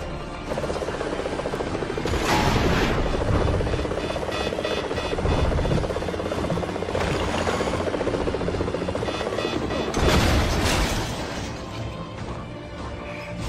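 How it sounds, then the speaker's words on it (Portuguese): A helicopter crashes into a building in the LEGO Marvel Avengers game: a continuous loud rotor roar and rumble with repeated heavy crashing impacts swelling at intervals, and no talk over it. "Os caras enfiou o helicóptero no prédio"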